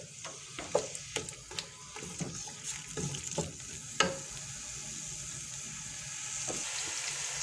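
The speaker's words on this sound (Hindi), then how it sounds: "लहसुन और अदरक ये हम इसमें फ्राई कर लेंगे।" Onion, garlic and ginger fry in hot oil, a soft sizzle punctuated by sharp clicks and scrapes of stirring, close but fairly quiet, with no voices.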